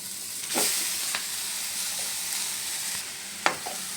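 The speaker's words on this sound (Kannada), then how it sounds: "ಇವಾಗ ಇದಕ್ಕೆ ಮೆಣಸು ಮೆಣಸಿನ ಪುಡಿ ಹಾಕ್ತೀನಿ ರೈಸ್ ಹಾಕ್ಬಿಡ್ತೀನಿ" Rice stir-fried with pepper powder and roasted cabbage in a pan for restaurant-style fried rice, a soft steady sizzle broken by a few sharp scraping and stirring clatters.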